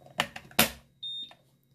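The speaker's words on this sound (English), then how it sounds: "It beeps when it's done charging" Quest Q2 NiCd/NiMH smart battery charger giving a single short high electronic beep, preceded by a few clicks and clacks from handling batteries, quiet and close.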